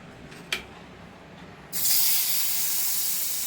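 Marinated paneer hits a hot dosa pan with a sudden loud sizzle that starts after a quiet moment and a single sharp clink, then holds as a steady, close frying hiss.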